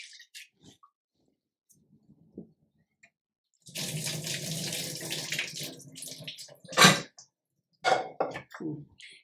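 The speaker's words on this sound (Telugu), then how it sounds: "ఇట్లా కడుగుండ్రి, పిసికి మంచిగా విసికి కడుగుండ్రి." Dal lentils being washed by hand in water, with bursts of splashing and sloshing from about four seconds in and a few short, sharp swishes near the end, after a quiet start with small taps.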